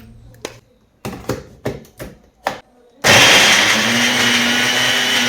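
A few close taps and knocks, then a kitchen blender starts and grinds onion paste with a loud, steady whirring roar that carries on to the end.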